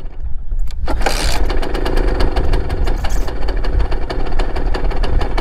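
A Simson S51 motorcycle's small two-stroke engine catches after a brief crank and settles into a loud, close, rapid popping idle that runs steadily to the end, with no voices.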